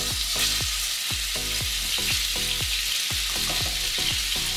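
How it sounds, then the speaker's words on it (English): Ahi tuna searing in oil heated until just before smoking, a loud, constant sizzle with a rapid repeating crackle pattern throughout and no voices. "We're gonna sear this fish, which basically means the inside will still be raw, but the outside will have a nice brown crust."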